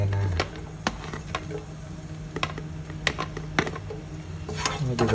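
Garlic sautéing in a small amount of hot oil while cooking salmon sinigang, heard as a soft steady sizzle broken by sharp scraping and clicking stirs throughout, with no talking.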